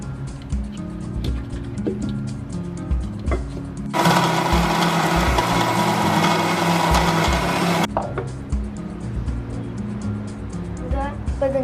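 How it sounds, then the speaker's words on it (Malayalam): A mixer grinder blitzes five bread slices into crumbs, a loud, steady whir that starts abruptly, runs for about four seconds and cuts off sharply, with quieter kitchen handling sounds and talking before and after. "നമുക്കിത് മിക്സിയിലൊന്ന് പൊടിച്ചെടുക്കാം."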